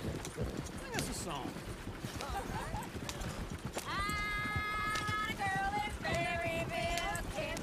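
Horses in the Red Dead Redemption 2 video game squeal loudly in several drawn-out whinnies over continuous galloping hoofbeats and clattering, with a voice talking in the mix.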